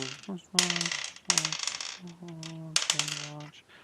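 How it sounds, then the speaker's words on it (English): Handfuls of dice clatter and rattle across a table during a tabletop role-playing game, with several sharp bursts of rolling and tumbling close by and no one talking over them. "So many dice. Yeah, lots of dice."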